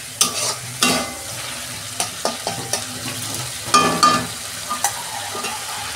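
Tomato, water and turmeric hit a hot frying pan, giving a constant close sizzle with repeated scraping strokes of a spoon stirring, and no voices.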